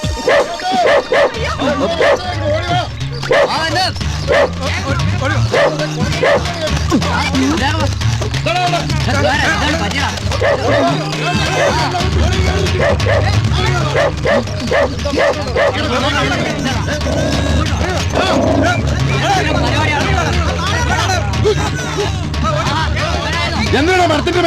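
A dog barks and yips repeatedly while it chases a man up a tree during a comedy scene. The barking is loud and close and runs almost the whole time, mixed with shouting voices and a busy background.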